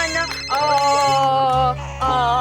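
A mobile phone ringtone plays steadily as a bright melodic tone over a low background bed, loud and close, during a scene in a Hindi TV drama.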